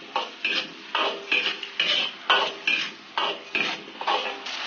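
A spatula rhythmically stirring Pixian bean paste, ginger, garlic slices and scallion pieces in a wok with hotpot oil, repeated scraping strokes with a light sizzle, close and steady, no speech.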